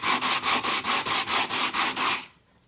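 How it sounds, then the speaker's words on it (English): Rhythmic back-and-forth rasping of sandpaper on a wooden cutting board made of dark and light woods, about ten even close strokes before stopping, with no talk. "So just like that, we're gonna sand it"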